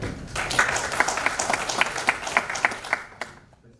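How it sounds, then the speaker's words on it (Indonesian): Audience applause before a presentation at an Indonesian professional seminar session: a brief burst of clapping with distinct sharp claps standing out over the crowd, fading out after about three seconds. "Tepuk tangan."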